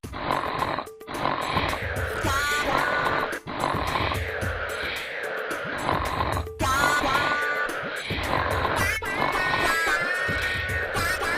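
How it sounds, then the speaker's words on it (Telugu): Loud, rough snoring repeats in long rasping breaths with brief gaps between them, close and dominant, with no talking. "సిమెంట్ రోడ్డుకి డ్రిల్ వేసినట్టు మీ గురక సౌండ్ ఏంట్రా బాబు?"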